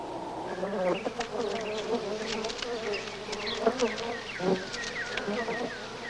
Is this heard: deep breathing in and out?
no